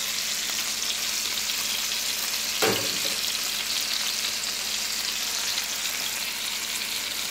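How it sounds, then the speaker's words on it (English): Chicken breasts fry in oil and butter with a steady, close hiss of sizzling and spattering, broken by one sharp pop partway through. "I can feel the oil and butter coming off, spatting out"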